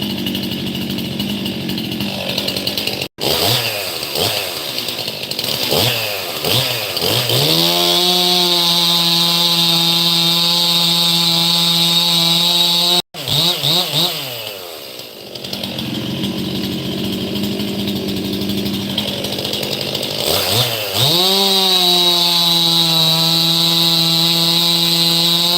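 A Stihl chainsaw runs loud and close, idling with rough sputtering and then revving up to a steady high whine, dropping back and revving again a second time.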